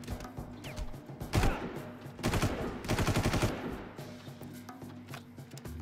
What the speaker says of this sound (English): at least two rocket dudes currently shooting at me. And a machine gun dude.